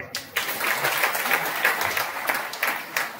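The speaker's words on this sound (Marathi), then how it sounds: "टाळी वाजवा" An audience at a religious discourse gathering applauds, with many hands clapping in a dense, steady patter that holds for about three seconds with a slight roomy echo.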